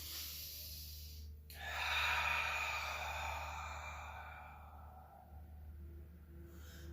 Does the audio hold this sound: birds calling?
no